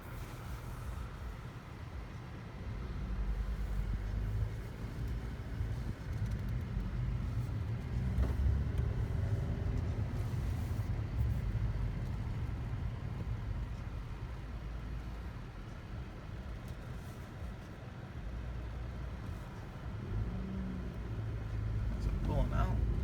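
A 2018 Honda Civic Si pulls away, its engine a steady low rumble that swells and eases as the car moves off, with people talking over it.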